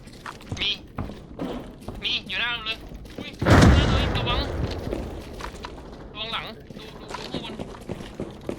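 Gunfire erupts behind the player in Arena Breakout: Infinite, a loud burst of shots around the midpoint with scattered crackling reports, heard under ongoing talk.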